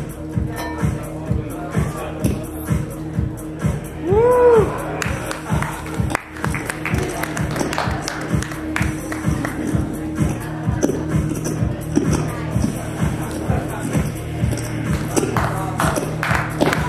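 A man bites into and chews glass as a stage stunt before a crowd, giving repeated short crisp crunches over steady murmuring and scattered taps, with voices nearby.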